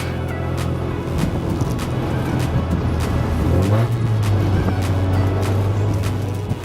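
A 1983 Mazda RX-7 rotary engine idling and revving steadily at close range, a continuous low droning hum with a rising pitch sweep midway, no talking over it.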